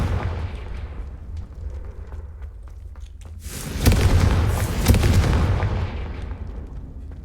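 A Confringo blasting spell bursts in Hogwarts Legacy with a loud booming explosion followed by a second blast about a second later, each trailing into a rumbling decay over a steady low background drone.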